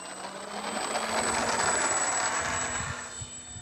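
An FMS Ranger PNP RC plane with a 1220mm wingspan takes off with flaps set, its electric motor and prop giving a steady, loud whirring drone that swells and holds, with a faint tonal whine, and no talk.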